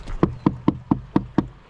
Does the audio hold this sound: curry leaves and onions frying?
no